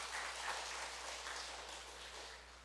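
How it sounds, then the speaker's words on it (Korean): A church congregation claps during a Sunday worship service. The applause is a faint, steady patter heard from a distance, like rain, lasting a few seconds without any voices. "우리 박수 한번 치도록 하겠습니다"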